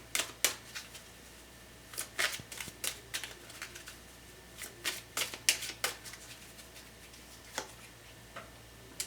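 Tarot cards being shuffled and drawn close up, a series of quiet crisp card snaps and flicks in irregular bursts, with no talking.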